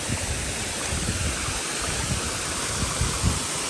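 Saleli waterfall in Sattari, a constant broadband rush of falling water that holds steady and fairly loud with no voices over it.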